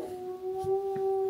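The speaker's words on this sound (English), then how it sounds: "That's my dog." A dog howls nearby in a sustained, steady tone with a faint background click or two.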